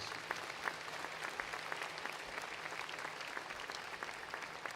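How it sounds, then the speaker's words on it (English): Steady applause from an audience at an in-person law school graduation ceremony, dense continuous clapping at moderate distance for nearly five seconds with no talk over it. "Let's give everyone a round of applause, please"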